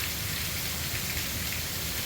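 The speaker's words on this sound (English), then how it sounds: "Within about an hour, an inch or two of rain." Heavy rain pours steadily onto a desert yard that is flooding, a dense, even hiss of drops drumming on the ground with no pauses.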